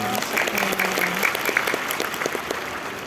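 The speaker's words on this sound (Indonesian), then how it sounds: "Tepuk tangan dulu untuk beliau." An audience at a Muharram religious talk bursts into brisk applause that lasts about three seconds, with a voice faintly audible at the start.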